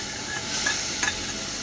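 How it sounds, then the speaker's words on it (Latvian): Cabbage sizzles in browning caramelized sugar while being stirred, a soft continuous fry hiss broken by a couple of brief scraping stirs near the end. "Apmaisam."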